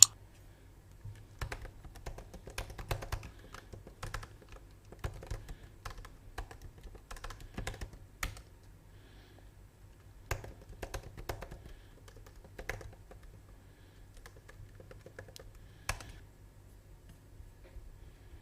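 Keys on a computer keyboard clatter in uneven bursts of quick, light clicks with short pauses between runs, close and fairly quiet in an otherwise silent room.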